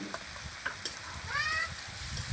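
Garlic paste frying in a wok for a chicken dish, a soft sizzle with a few clinks and scrapes of a spatula, fairly quiet and brief, no voices.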